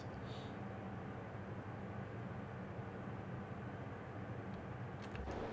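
Heavy train engine labouring steadily uphill in Train Simulator Classic on the twisty Edinburgh to Newcastle line, a continuous loud low rumble with drone throughout and a brief rise in noise near the end.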